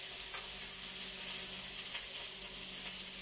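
Chicken adobo with potato is stirred in a pan, a steady bright sizzle of frying running throughout with faint soft stirring movements underneath.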